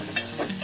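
Garlic, chili and onion roast in a pan with a short, close sizzle and a few stirring scrapes, with no talk.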